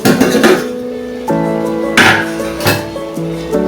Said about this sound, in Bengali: দশ মিনিট বাদে আমি ঢাকনা খুললাম